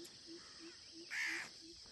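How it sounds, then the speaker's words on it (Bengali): Crows perched at the Sajek helipad give one faint, distant caw over a quiet background with a faint rhythmic insect-like chirp repeating throughout. "দেখেন এই যে এখানে কয়েকটা কাক, কয়েকটা কাক এখানে বসে এখন।"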